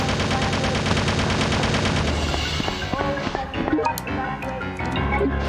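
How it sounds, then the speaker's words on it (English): Gunfire in the Resident Evil: Survivor video game, a loud dense stream of rapid automatic shots followed by scattered single gunshots over a steady game music bed. "Stop it with the shooting."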